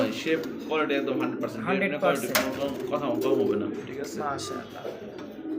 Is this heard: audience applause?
no